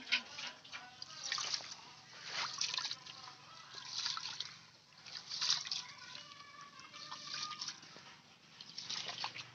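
Rice being washed by hand in a pot of water, quiet repeated sloshing and trickling at close range, with soft rhythmic swirls and drips.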